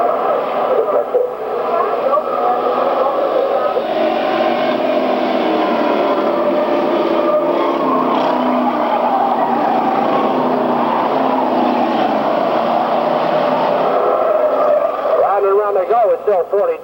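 Stock cars race around a track in a close battle for the lead, a steady engine roar running the whole time beneath continuous announcer commentary.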